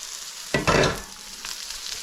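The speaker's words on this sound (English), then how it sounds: "Take a moment here and stir the pot." A spoon stirs a pot of softening salsa vegetables, a short, loud scraping swish over a steady sizzle, then quiet simmering.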